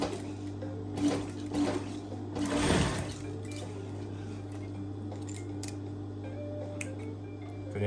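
A sewing machine stitches a shirt sleeve in short, quiet bursts of ticking, set apart by pauses and handling rustles, over a faint steady hum in a quiet room.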